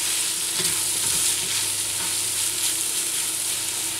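Lamb liver stirred in a frying pan, a loud continuous sizzle with broadband hiss and faint scraping of the spoon, heard close up with no talking.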